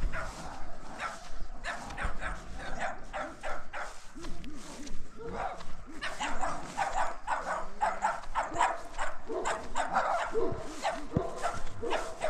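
Chihuahuas bark and yip rapidly and repeatedly, several high-pitched voices overlapping, fairly close, with a few whimpers mixed in.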